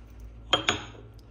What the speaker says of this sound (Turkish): Şuradan şöyle kaşıkla alıp tabağa koymak istiyorum